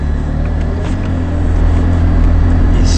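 Engine of a car, a replica Ferrari, pulling away on light throttle, a steady low rumble that gradually grows slightly louder, heard close from inside the cabin with no talking.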